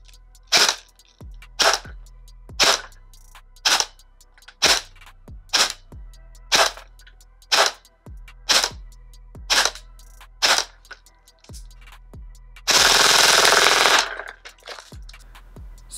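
Specna Arms F03 M4-style airsoft electric rifle firing a series of sharp, evenly spaced single shots close by, followed by a brief burst of rapid full-auto fire near the end.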